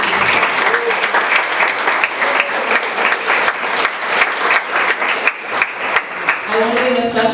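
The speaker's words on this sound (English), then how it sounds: "So let's give them all a round of applause," An audience at a school fashion show claps steadily in a dense round of applause with a few cheers and voices mixed in.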